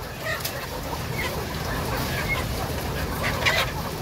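Chickens cluck and squawk amid a busy outdoor background, with brief flurries of clucking and a louder squawk near the end.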